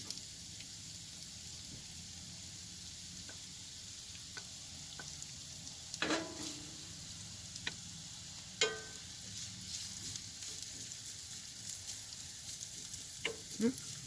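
Onions fry quietly in a pan with a soft, steady sizzle, broken by a few sharp clicks and clatters of utensils against the pan, faint and close.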